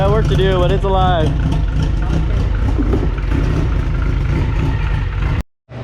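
A Honda CRX engine idles close by with a steady, rumbling drone, a voice speaking over it briefly before the sound cuts off abruptly near the end.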